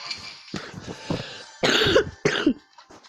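A man with an illness coughs several times in a short run, the coughs close and loud, separated by brief pauses, with two harsh bursts standing out near the end.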